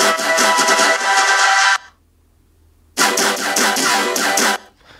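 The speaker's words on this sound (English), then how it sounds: "it's just kind of this wobble. It's going to sound pretty different because we have a lot of effects going on it." Wobble synth sample layered with heavy effects, playing two loud dense bursts with a pulsing, tonal texture, separated by a gap of near silence.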